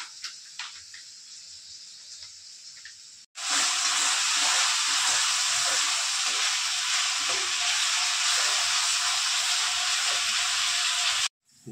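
Ginger garlic paste hits a hot pan for a chicken curry and bursts into a loud, steady, close sizzle that runs for about eight seconds, then cuts off after a quieter stretch of kitchen background.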